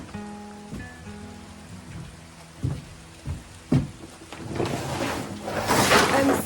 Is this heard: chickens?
no